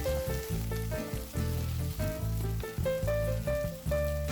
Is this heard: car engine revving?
no